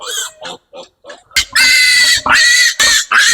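Pigs and young piglets on a Philippine backyard pig farm squeal loudly and close up in repeated shrill bursts, after a few softer grunts and snorts.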